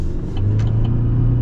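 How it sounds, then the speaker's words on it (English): A 2023 Chevrolet Silverado 1500 Custom pickup truck accelerates, its engine giving a steady, close, low drone with a few faint clicks on top and no voices. "this is actually pretty responsive, and you guys will see here with the acceleration"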